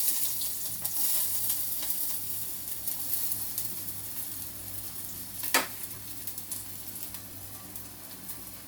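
Onions sizzle and fry in hot oil in a pan, a steady close crackling hiss with light stirring scrapes and one sharper clatter midway.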